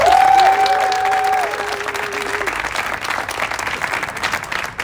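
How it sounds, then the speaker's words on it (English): Applause from an audience at a press conference, loud at first and then tapering off, with a held tone at the start that fades as the clapping continues. "Can we give her a big round of applause?"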